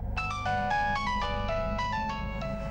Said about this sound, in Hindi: टीनू का फोन।